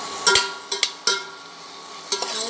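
Finely chopped onions sautéing in a pan for a Tamil tomato thokku, with a soft sizzle under a few sharp scraping and stirring clatters spaced irregularly.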